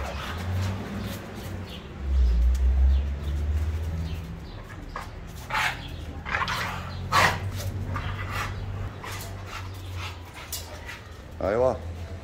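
A pit bull dog barks and whimpers in short bursts, with a louder, deeper outburst near the start, while people talk around it.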